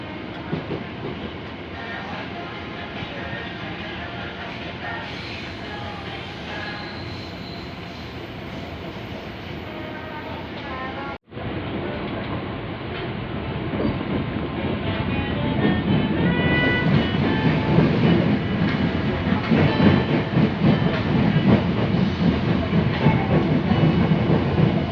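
Commuter train on the Bogor to Jakarta Kota route heard from inside a carriage at night, a loud continuous rumble with clattering wheels that briefly cuts out and then grows rougher and louder.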